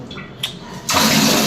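A household tap is opened and water gushes out in a steady, loud stream that starts abruptly after a few quiet moments with faint background sounds.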